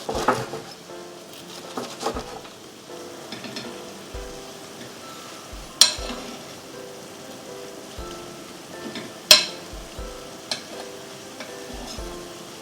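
Slices of fried pork cutlet go into a simmering dashi and sweet onion sauce, which gives a steady soft sizzle and bubbling, broken by a few sharp clinks and taps from utensils.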